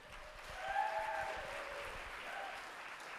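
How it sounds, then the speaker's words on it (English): Audience applause for a student Irish dance club's executive board at a spring showcase, a steady wash of clapping that swells early and then holds at an even level throughout. "So can we please give a huge round of applause for them?"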